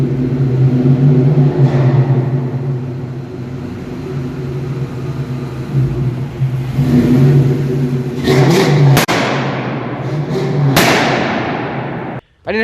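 A 1999–2004 Ford Mustang GT with Flowmaster 40 exhaust rumbles deeply at idle, then revs up in loud surges that swell and fall away, close by and without talk.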